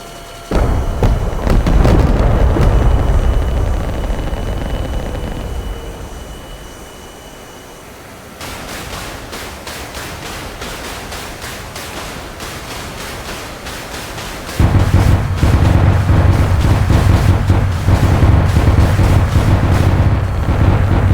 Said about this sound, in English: This has to be my first time using rockets in top tier.